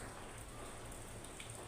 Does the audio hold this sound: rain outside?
yes